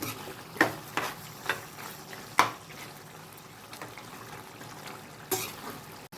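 Chicken frying in a pan gives a soft, steady sizzle broken by several sharp stirring knocks and clatters, fairly quiet and with no talking.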